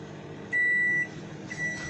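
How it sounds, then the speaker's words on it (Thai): A microwave oven signals the end of its cycle with a steady electronic beep of about half a second, then a shorter beep follows a moment later over low room noise. "นี่คือเสียงไมโครเวฟ"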